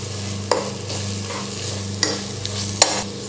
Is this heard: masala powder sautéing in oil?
yes